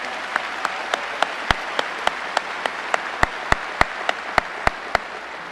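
Sparse, evenly spaced claps at a high school graduation ceremony, a few distinct hands striking in a loose repeating rhythm, fairly close and clear with little background crowd noise.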